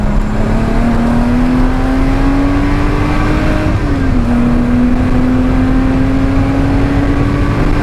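Race car engine at full power on the Oulton Park circuit, a loud steady drone that rises in pitch, dips briefly at a gear change, then climbs again, close and continuous throughout.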